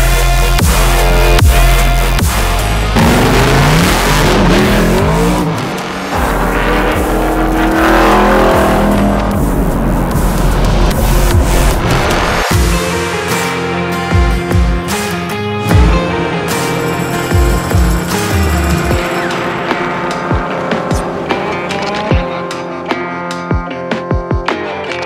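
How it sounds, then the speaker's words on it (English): A straight-piped 1969 Chevrolet Camaro Z28 with a 540 cubic inch Donovan aluminum big block V8 roars loudly up close, holding a heavy sustained drone, then crackles and pops through a series of sharp blips and revs, with no talking. "Big Red, its 1969 Z28 Camaro, has a 540 cubic inch Donovan aluminum big block that puts out 750 foot-pounds of torque and 800 horsepower."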